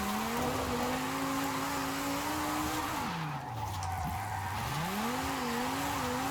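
In Forza Horizon 5, a drift car slides with a sustained tire squeal over a droning engine, the pitch dipping and rising again as the slide changes, loud and continuous.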